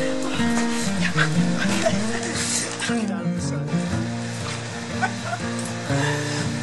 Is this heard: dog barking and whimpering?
yes